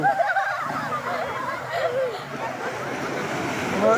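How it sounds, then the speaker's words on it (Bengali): Broad, steady wash of surf on a beach with a low rumble swelling toward the end as a large wave rolls in, wind noise over the microphone. "এই যে আরেকটা বড় ঢেউ আসতেছে আমরা দেখতে পাচ্ছি"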